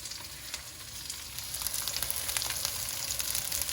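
Chicken, mixed vegetables and broccoli stir-frying in a pan, a steady bright sizzle that swells and grows denser halfway through as the food is stirred, close and continuous without talk.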